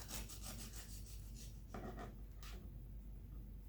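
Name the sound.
knife slicing through crispy bread crust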